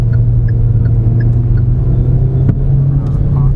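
A Hyundai Grand i10 Nios AMT in Sportz trim is driving, and its engine gives a steady low rumble with road noise from inside the cabin, continuous throughout.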